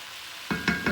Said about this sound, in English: turn our ground beef over a little bit, guys, and just let it brown with our onions